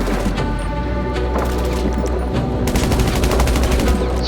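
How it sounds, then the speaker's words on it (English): Automatic gunfire in the open-world game GTA Online, rapid bursts of shots and machine-gun fire layered over one another, loud and near, with brief gaps between volleys and no speech. "Who is still shooting at me?"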